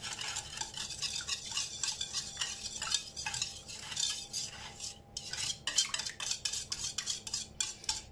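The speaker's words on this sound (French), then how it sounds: "maintenant, je mélange tout l'ensemble" Cake batter is stirred in a bowl for a quick leftover-bread cake, with a utensil scraping and tapping against the bowl in a steady, close rhythm and short pauses, and no talking.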